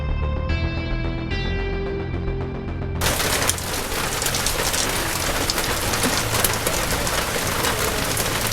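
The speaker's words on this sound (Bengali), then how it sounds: "বৃষ্টি এসছে, চলুন।" Steady rain falls loudly and continuously, a dense hiss of drops on surfaces that swells in abruptly after a brief stretch of soft musical tones at the start.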